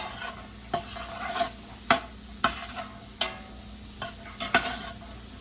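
Sautéed vegetables with carrots for venison soup being stirred in a pot, a steady low sizzle broken by about eight sharp spoon scrapes and clanks at an uneven pace, close and clear with no talking.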